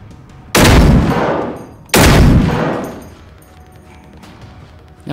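Two loud, close gunshot blasts from the video game Generation Zero, each a sharp crack with a long booming tail, spaced about a second and a half apart, followed by quieter ambient game noise.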